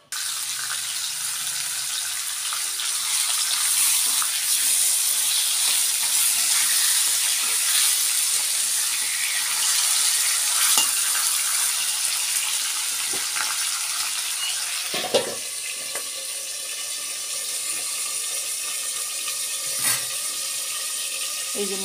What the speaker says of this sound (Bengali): চলো মাথাগুলো একটু ভেজে নিতে হবে।